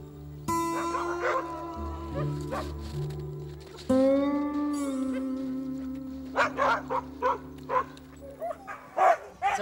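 Alaskan malamute sled dogs in Quebec whine, yip and howl, with long high whimpers giving way to a run of sharp, close barks, several dogs overlapping and loud.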